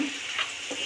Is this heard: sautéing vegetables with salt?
yes